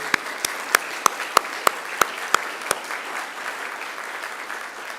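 Graduates at a Macquarie University graduation ceremony clap for themselves, a steady wash of crowd applause with a few crisp individual claps standing out near the front.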